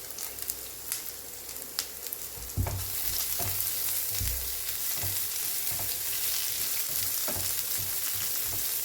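Onion and urad dal frying in a pan, a steady bright sizzle throughout with occasional soft knocks of a spatula, close and alone without talk.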